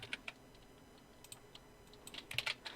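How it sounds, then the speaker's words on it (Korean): Light clicks of a computer keyboard, including an A key press, during Illustrator shortcut work: scattered single taps close by, bunching into a quick cluster near the end over a quiet room. "잠깐 A키 눌러서"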